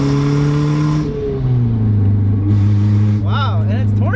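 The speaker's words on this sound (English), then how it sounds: "First feeling is the motor feels healthy as hell." A 1981 Toyota Corona Wagon engine pulls under acceleration from inside the car, its steady tone dropping as a gear changes, while people talk over it.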